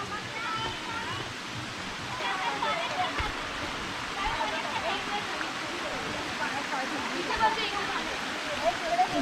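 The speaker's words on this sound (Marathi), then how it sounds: "मस्त असं वाहतं पाणी वरतून." Waterfall at the Kondana caves on a Karjat trek, water pouring down from above in a steady, full rush that fills the whole stretch, with faint voices at times over it.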